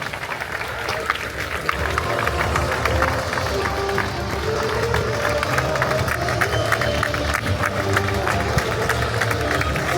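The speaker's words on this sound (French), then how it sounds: "Merci de vos applaudissements." Audience applause and cheering from a crowd at a French village fête with military demonstrations, a steady dense wash of clapping that holds for the whole stretch, with crowd noise and some talk underneath.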